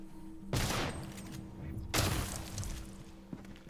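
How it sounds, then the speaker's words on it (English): Two loud shotgun blasts from a first-person video game set on a moon base, each a sharp broadband crack with a booming tail, about 1.4 seconds apart over a steady low hum. "I have a shotgun!"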